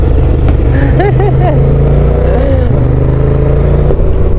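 A motorcycle carrying a whole family of several children passes on a road in Afghanistan, its engine droning loudly and shifting pitch close by under the steady rumble of another running engine, while people talk over it.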